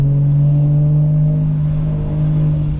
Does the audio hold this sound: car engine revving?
yes